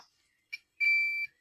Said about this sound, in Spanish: Hemos configurado el multímetro en la opción de continuidad